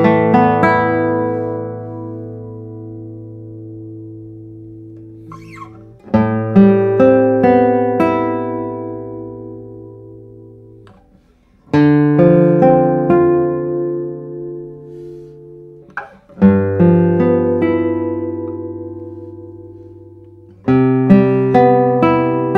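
A Michel Brück 2020 No. 230 classical guitar is played in slow, ringing chords and notes, each struck clearly and left to sustain and decay with deep bass resonance, about five separate phrases with pauses between them.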